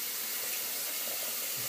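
Tap water runs steadily from a faucet into a sink while someone wets their face before shaving, a soft, even hiss close by and alone.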